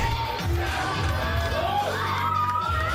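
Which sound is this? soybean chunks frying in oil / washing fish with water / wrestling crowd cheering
wrestling crowd cheering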